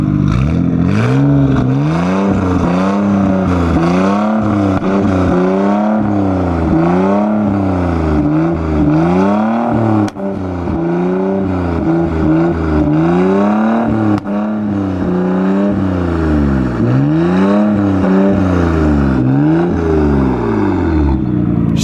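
A car engine at a cars and coffee meet revs hard and repeatedly, its loud raspy Tomei aftermarket exhaust rising and falling in steady waves throughout, with no talking.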